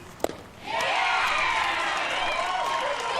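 Moms cheering at a Little League baseball regional championship game, a loud sustained crowd roar that swells up suddenly after a sharp knock and holds steady with shouts and applause.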